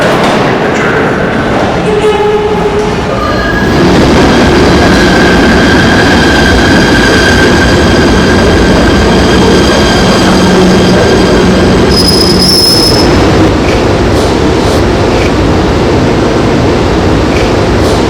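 A train in the game Trainz rumbles loudly into a station throughout, with metallic wheel squeals and a high brake screech near the end, a steady heavy roar of rail cars rolling in.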